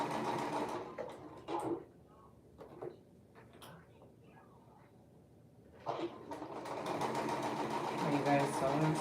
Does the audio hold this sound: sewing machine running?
yes